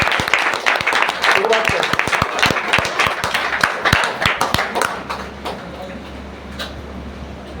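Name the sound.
audience applause to start the meeting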